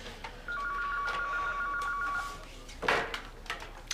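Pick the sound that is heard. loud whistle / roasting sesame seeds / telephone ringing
telephone ringing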